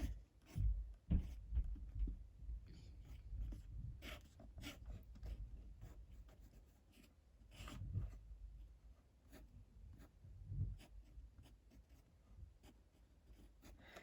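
A pen scratches across paper while drawing a picture for a children's lesson, giving soft, quiet, close strokes and scribbles in irregular bursts, with no speech.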